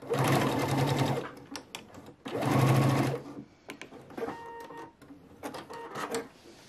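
Sewing machine stitching the overlapped ends of an elastic waistband closed on a pair of shorts, two loud close bursts of rapid needle chatter followed by shorter stops and starts with clicks of handling.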